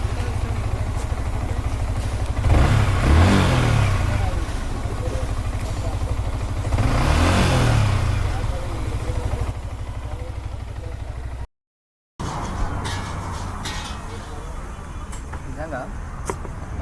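A Yamaha MT-15 motorcycle after its fourth service revs its engine in two strong surges, then settles into a steady, clattering idle.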